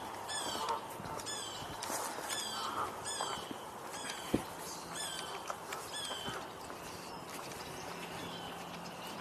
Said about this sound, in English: I just heard a blue jay.